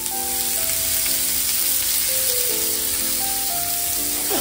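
Onion frying in a pan makes a continuous, fairly loud hiss and crackle. Soft tonal music plays underneath throughout.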